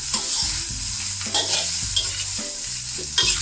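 Shrimp fried rice with Chinese kale is stir-fried over high heat, giving a loud continuous sizzle with repeated clattering scrapes of a spatula against the pan.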